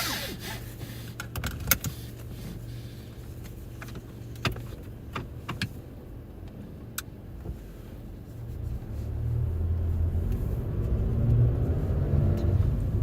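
A car drives slowly over snowy, slick streets in Frisco in the Dallas–Fort Worth area: a steady low cabin rumble with a few small clicks and rattles, and engine noise building toward the end.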